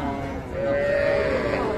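A cow at a rural cattle market for young heifers and bull calves lets out a single drawn-out moo, close and fairly loud, over a murmur of bargaining voices.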